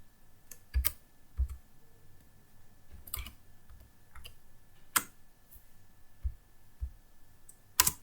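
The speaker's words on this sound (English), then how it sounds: "So let's type our 3 by 3 matrix." Scattered keystrokes and clicks on a computer keyboard, irregular taps with pauses between them, close and quiet in an otherwise silent room.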